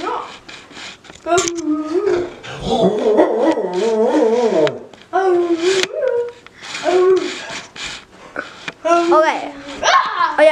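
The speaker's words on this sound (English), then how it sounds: "Oh, my dog is here!" A dog whimpers and whines in rising and falling squeals, close and fairly loud, mixed with excited human voices.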